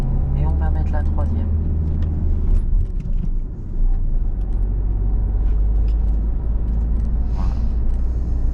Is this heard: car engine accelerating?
yes